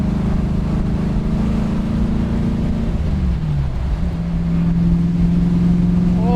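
The engine of a 1965 Sunbeam Tiger hums loud and steady from inside the car as it pulls through the gears, its pitch climbing, dropping at a shift, then settling, with wind rushing around it.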